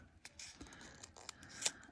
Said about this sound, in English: I do prefer using my little scissors